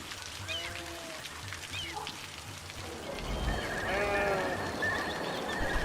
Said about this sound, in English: These are farms, of course, so you got a bunch of cows mooing.